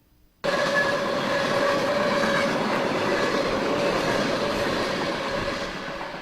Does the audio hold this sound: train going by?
yes